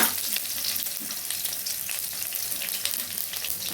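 Onions and cumin dropped into hot oil, a loud dense hiss of frying right from the start that holds steady and rushing throughout, with scattered crackles.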